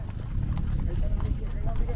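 Horse hooves clip-clop steadily on the ground, close by, while someone talks over the rhythmic hoofbeats.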